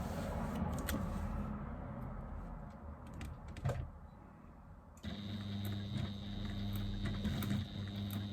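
A sewing machine runs steadily through a short stitch length, a dense mechanical whir with a brief pause before it picks up again with a steadier, brighter hum, nearby and alone.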